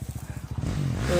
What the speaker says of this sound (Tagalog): Nag-U-turn din yung motor, nag-U-turn.